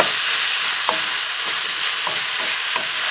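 Garden vegetables stir-frying in a wok, seasoned with pepper, soy and nuoc mam, give a loud, continuous hissing sizzle with a few short scrapes of stirring spaced through it.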